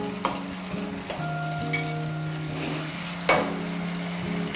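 Tomatoes frying in a pan with sautéed onion and garlic, a steady close sizzle running throughout with a few sharp stirring scrapes and clinks, no talk.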